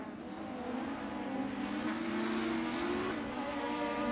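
Front-wheel-drive Super Touring race cars, including a pack of Peugeots, circuit Zolder GP in a sim racing game, engines droning steadily and close with faint tire squeal, a continuous loud roar with no talk.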